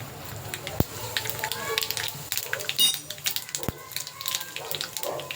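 Mustard and cumin seeds sizzle and crackle in hot oil for Andhra-style palak dal, a close frying hiss with scattered pops while a person talks over it.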